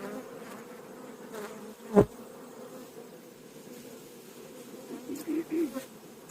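Honeybees hum steadily around hive boxes holding buckwheat honey, a close, continuous buzz with one bee zipping past loudly, while a person talks nearby.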